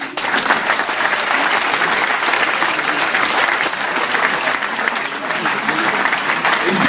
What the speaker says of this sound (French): Et ça mérite un grand applaudissement.